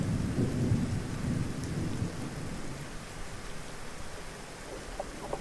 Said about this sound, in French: Impossible de se protéger de cette pluie et de la grêle glaçante